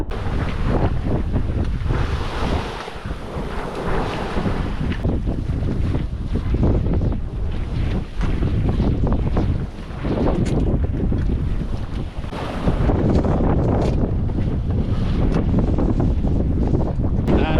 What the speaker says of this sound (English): Finally, the wind's here.